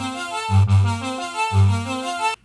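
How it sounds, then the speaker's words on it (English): A dry arpeggiated pattern from a Dave Smith Mofo X4 analog synthesizer, with buzzy, harmonically rich notes stepping in a repeating sequence with a strong bass pulse, close and without effects. "use that on an arpeggiator that I recorded earlier on my Dave Smith Mofo"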